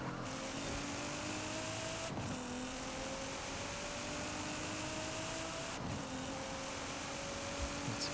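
A race car in Forza Horizon 5 drives through a seasonal championship event, its engine note climbing steadily through each gear and dropping sharply at three upshifts, with faint tire noise under the continuous game audio.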